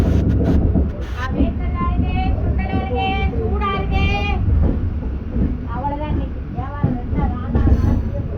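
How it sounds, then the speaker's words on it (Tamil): Tambaram-Rameswaram Express train running alongside a moving MEMU commuter train, with a loud continuous rumble and rattle of the carriages, heard from inside the coach while people talk throughout. "தாம்பரம் ராமேஸ்வரம் எக்ஸ்பிரஸ் கூட ஒரு பேரலல் ரன் இருக்குங்க நமக்கு."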